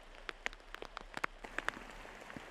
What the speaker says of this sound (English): You can see the rain's coming down.